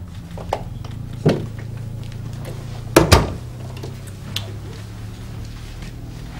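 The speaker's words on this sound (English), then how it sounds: "Door." A door thuds and clunks in a police station setting, with a few knocks before a heavier double bang of it shutting, over a low steady hum with no speech.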